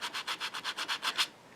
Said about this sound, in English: If you take a sanding block,